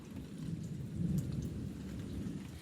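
Thunderstorm with steady rain falling, deep rumbling thunder rolling underneath a constant patter of drops, fairly close and loud.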